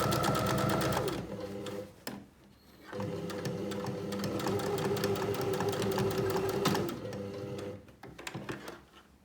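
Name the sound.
sewing machine stitching to close the gap in a tote bag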